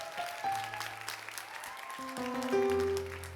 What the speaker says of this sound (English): Come on, clap real loud.